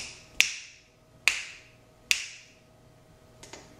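Three crisp finger snaps ring out at an even pace, followed by two fainter snaps, close and clear with no talking, triggering a sound-active RGBW LED PAR light.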